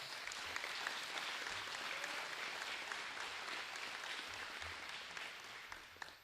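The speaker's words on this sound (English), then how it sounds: "If you will please give these students and teachers one more big round of applause." Sustained audience applause fills a sports banquet hall honoring senior student athletes and teachers, a steady dense patter of many hands that fades slightly toward the end.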